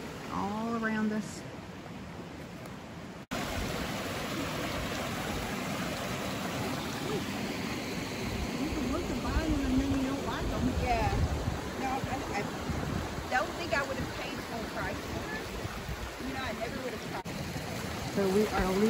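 A stream on the Appalachian Trail in southern Pennsylvania, running high after rain, ice and snowmelt, makes a steady rushing wash close by while voices talk over it now and then.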